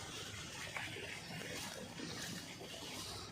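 Irrigation water flowing through a farm field in Gujarat, a steady faint gushing wash that runs continuously without break, heard alone at a low level.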